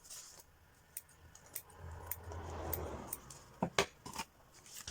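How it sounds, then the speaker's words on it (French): Faint, quiet snipping of scissors through glued paper, a few short crisp cuts spaced irregularly against a soft background rustle. "je vais venir terminer au ciseau, parce que forcément avec la colle, ça découpe pas super bien"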